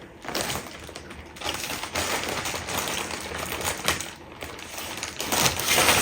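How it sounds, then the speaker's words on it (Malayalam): A Temu delivery package is opened by hand, producing loud, close crackling and crinkling of plastic and paper packaging in irregular bursts, with no voices. "അപ്പോൾ നമുക്ക് ഇന്ന് അത് അൺബോക്സ് ചെയ്യാം."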